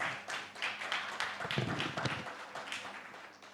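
Audience applause for a panelist at a private equity and venture capital panel discussion, a full room of hands clapping steadily at moderate volume, a couple of brief voices underneath.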